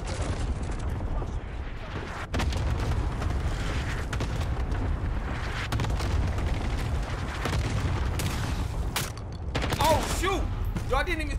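Explosions and heavy combat fire in the Call of Duty Vanguard video game, a continuous dense barrage of booms and gunfire filling the whole stretch, loud and close, with a brief sharper burst near the end.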